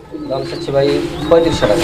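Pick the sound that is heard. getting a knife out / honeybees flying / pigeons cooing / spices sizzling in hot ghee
pigeons cooing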